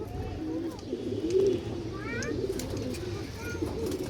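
Pigeons coo softly and repeatedly at close range, with faint chirps and background noise.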